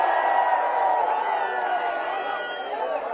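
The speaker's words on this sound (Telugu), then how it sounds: "చప్పట్లు కొట్టి." A large crowd at a Ra Kadali Ra public rally in Gurazala claps and cheers, a loud dense roar of hands and voices that holds steady for a few seconds.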